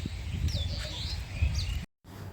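Birds calling at Uppalapadu bird sanctuary near Guntur, a few high chirps and whistles over a steady low outdoor rumble, with a brief dropout of sound near the end.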